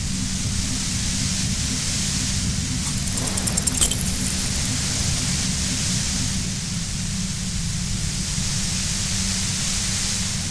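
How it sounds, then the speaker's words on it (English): A droning compressor in the video game Disco Elysium emits a loud, steady wash of white noise that holds unbroken throughout, with a brief crackling flutter of high static partway through. "The violent white noise becomes even more overwhelming closer to the compressor."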